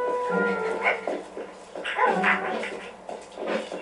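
Dogs in Minecraft Story Mode Season 2 give soft, whimpering whines in short bursts, heard at moderate level with some voiced game chatter mixed in.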